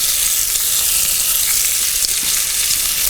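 Beer splashes onto bratwurst in a hot pan at a camp cook, setting off a loud, steady hiss and crackle of frying that fills the whole stretch without pause.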